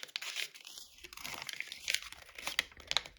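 Paper being squash-folded for an origami fighter jet: close crinkling and crisp creasing in irregular bursts, with sharp paper snaps toward the end and no talking.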